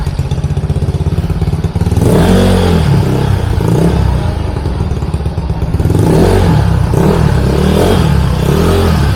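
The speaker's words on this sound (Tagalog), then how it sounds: "Naririnig ko yung pagkasingaw niya." Motorcycle fitted with a JVT exhaust pipe leaking at the gasket, engine running loud and close with repeated revving surges and a hissing, sputtering exhaust note throughout.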